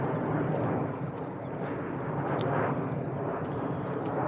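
Fixed-wing airplane droning overhead beside a forest, a continuous broad, moderately loud rumble that stays level throughout, with no one speaking.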